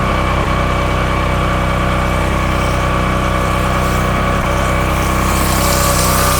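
A softwash skid's P40 pump drives a 290 psi pencil jet aimed at a wall over 9 metres up, giving a loud, steady engine-and-pump drone with constant spray hiss and no talking.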